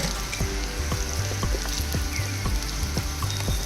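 Onions fry in hot oil for ghee rice, a loud, continuous sizzle close by, broken by regular rhythmic scraping and stirring strokes, with no talking.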